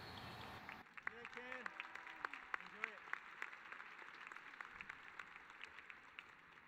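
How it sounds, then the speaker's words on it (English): A graduation audience applauds a speaker at a public school graduation ceremony. The dense clapping rises after a brief opening and holds steady for several seconds, with a voice speaking over it. "So let's give a large round of applause for Mr."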